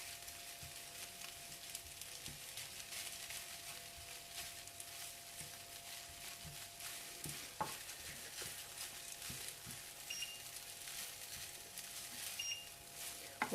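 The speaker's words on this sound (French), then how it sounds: "Et on remue jusqu'à ce que les grains de riz soient bien séparés." Pineapple fried rice is stirred and tossed in a hot pan, with a soft sizzle of frying underneath. Faint scraping and clinking strokes come at an irregular rhythm, quiet and continuous throughout.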